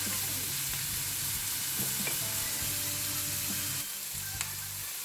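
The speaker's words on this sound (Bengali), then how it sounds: "আমি এখন সামান্য ভেজে নেব, ভেজে মশলা দেবো আর কি" Chopped garlic, onion and chillies frying in a pan for a Bengali fish and pointed gourd curry, a dense close sizzle with faint stirring scrapes, dropping slightly near the end.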